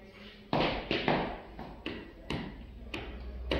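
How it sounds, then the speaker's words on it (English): Knocking on a door during a drama performance, a series of about seven sharp, distinct raps in an irregular rhythm, close and clear with no talk over them. "He knocked at the door."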